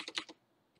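Several quick keystrokes clatter on a computer keyboard, a short close burst followed by a pause and then one more tap, with no voices.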